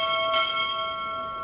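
A ship's bell rings at a U.S. Navy chief petty officer pinning ceremony: a clear metallic strike over an already ringing tone, the bright overtones sustaining and slowly fading.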